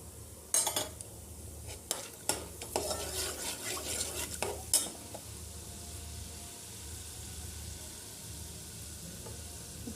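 Cumin seeds and chana dal fry in hot oil in a pan, with a quiet steady sizzle under a few sharp scraping clinks of a spoon stirring during the first half.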